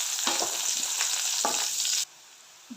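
Paneer with curry leaves and onion frying in hot oil, a steady loud sizzle with a few stirring scrapes, cutting off abruptly near the end to leave near silence and one small knock.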